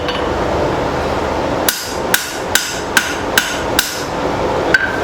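A hammer strikes a hot spoon blank during slow forging, as the end gets rounded: about seven sharp metallic blows at an uneven, unhurried pace, close and ringing, over a steady background hum.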